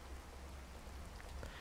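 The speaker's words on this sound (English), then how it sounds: "It's still raining heavily." Heavy rain falls in the Card Survival video game as a steady, hissing downpour, faint and continuous with no voices.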